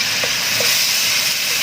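Garlic stir-fried in cooking oil in a wok over a low flame, a steady close sizzle and hiss with a few soft stirring scrapes, no voices.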